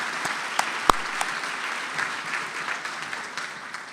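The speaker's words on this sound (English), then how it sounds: "Let's give them one more big round of applause" An audience at a school foundation luncheon applauds students, a steady wash of many hands clapping at moderate volume that slowly tapers off, with a few sharper individual claps standing out near the start.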